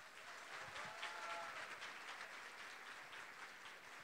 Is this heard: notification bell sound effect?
no